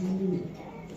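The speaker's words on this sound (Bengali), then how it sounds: "একদম লাইট কালার ব্লু চেকার একটা মাদি কবুতর, সুন্দর" A light blue checker female racing pigeon gives a single short, close coo that fades quickly into faint background noise.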